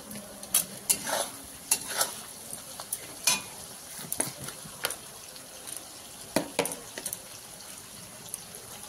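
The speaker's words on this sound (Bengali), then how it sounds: "এবার আমি কেটে রাখা টমেটোগুলো দিয়ে দিচ্ছি একে একে" Chopped tomatoes going into a frying pan for a spicy mutton curry, with scattered clinks, scrapes and stirring bursts over a low steady sizzle, close and moderately quiet.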